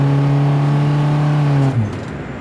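A 1989 Volvo 240 station wagon engine holds a loud, steady rev with a strong low hum, then drops off abruptly as the throttle is released.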